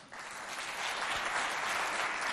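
A school audience at a student quiz competition in Mao breaks into a brief burst of applause, dense and even, fairly distant and alone without speech.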